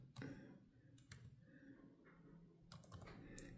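Several quiet key presses on a computer keyboard while a zip code is entered, a few sparse clicks in short groups, recorded close but faint.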